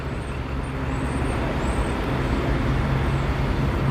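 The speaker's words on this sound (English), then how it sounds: "The traffic is so loud." Loud, constant street traffic roars on a Brooklyn street, a dense wash of passing cars and heavy vehicles close by, with faint high chirps above it.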